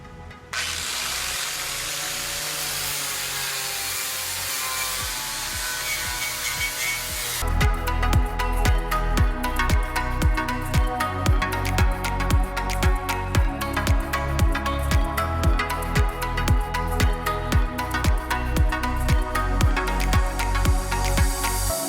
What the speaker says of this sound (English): There it is after the wire wheel.